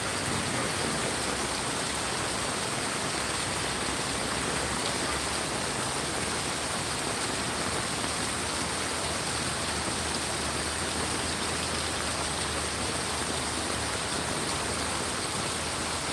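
Heavy rain falls on a hillside road, a dense, steady hiss that fills the whole stretch at high volume with no let-up and no voices.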